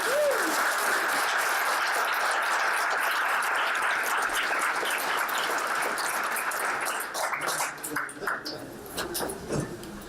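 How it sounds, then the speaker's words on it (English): An audience at a meetup gives a round of applause for a guest designer, a broad sustained wash of clapping that thins out into scattered claps toward the end, with murmuring voices beneath. "big round of applause for Jeff Archibald"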